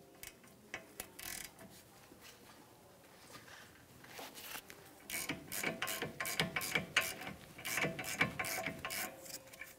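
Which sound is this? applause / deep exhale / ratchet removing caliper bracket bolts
ratchet removing caliper bracket bolts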